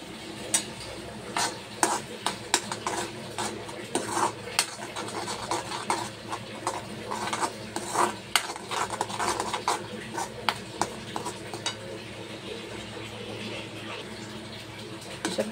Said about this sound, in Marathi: अशा प्रकारे आपण सगळा मसाला भाजून घेतला व्यवस्थित